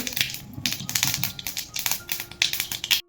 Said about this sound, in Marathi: इथे मोहरी चांगली तडतडलेली आहे